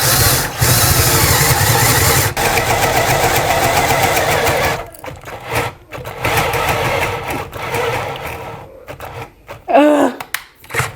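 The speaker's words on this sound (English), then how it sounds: "So I'm gonna drill the 1/2 inch hole right here." A battery power drill boring a half-inch hole whirs loudly and continuously for several seconds, then stutters in short bursts as it slows with failing batteries, with brief voice sounds near the end.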